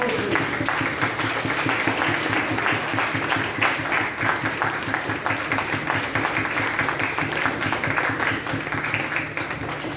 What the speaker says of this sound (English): please let us give a thunderous round of applause